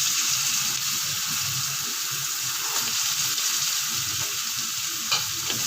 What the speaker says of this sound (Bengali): গাজরগুলোকে একটু ভাজা ভাজা করে নেব।